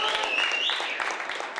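Audience clapping for musicians after a performance at a Studio One show, a dense steady patter of applause from a modest crowd lasting the whole moment.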